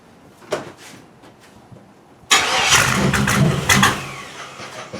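Starter motor cranks a 1976 Chevrolet Malibu engine that is starved of fuel: a few faint clicks, then a loud, sustained rhythmic cranking churn that never catches.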